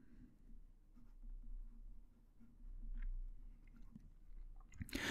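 A Fountain Pen Revolution fountain pen with a medium nib writes on paper in faint, close scratchy strokes, broken by short pauses, ending in a louder clatter.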